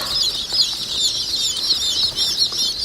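A crowd of newly hatched buff Brahma chicks at a hatchery peeps constantly, a dense, high, overlapping chorus of chirps that stays close and loud throughout, with no voices.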